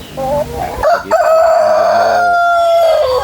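Chickens crowing and clucking: a rooster's long, loud crow rises and holds close by, preceded by short clucks, with no talk.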